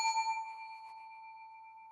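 A single bell rings once with a clear metallic ding and a long, slowly fading ring, heard alone.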